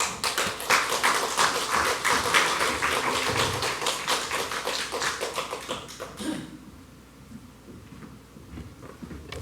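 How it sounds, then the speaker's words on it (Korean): Church congregation clapping in welcome for a visiting pastor: dense, rapid hand claps close by for about six seconds, then cutting off abruptly into quiet room tone. "반갑습니다 하는 마음으로 박수로 모시겠습니다"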